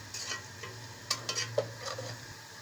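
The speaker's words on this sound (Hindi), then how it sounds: "अब इसमें जाएगा गरम मसाला, तो इसमें हम साबुत गरम मसाला ही डालेंगे। और फिर इसको भूनेंगे थोड़ी देर।" Lightly browned onions frying with whole garam masala for biryani, a steady sizzle broken by several quick stirring scrapes and clinks of a spoon against the pan.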